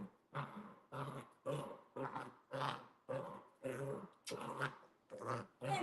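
A dog growls in a rough, rhythmic run of about eight throaty rumbles, one after another. The sound is close but fairly quiet, and no one talks.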